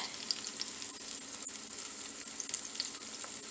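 Lightlife plant-based ground patties frying in a pan, a steady, even sizzle with faint crackles and pops throughout.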